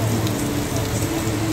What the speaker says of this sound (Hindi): बारिश तो बहुत जोरों में है।